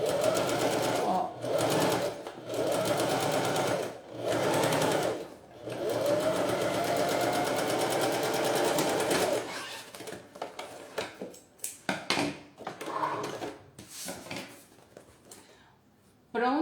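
A sewing machine runs in long steady bursts topstitching a bag, with short pauses between runs, then quieter handling and brief stops near the end.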